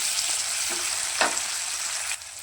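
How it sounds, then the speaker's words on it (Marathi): Chopped drumstick pods frying in oil for a pulao make a continuous bright hiss with one brief scrape or pop partway through. The sound is close and moderately loud and no one speaks. "हे शेंगा चांगल्या तेलामध्ये फ्राय करून घ्या, म्हणजे चांगल्या शिजल्या जातील"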